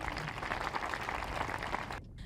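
A congregation claps together to applaud the Lord, producing a dense, even wash of handclaps that is fairly faint and stops abruptly after about two seconds.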